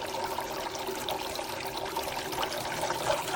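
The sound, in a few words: AISITIN solar garden fountain water flowing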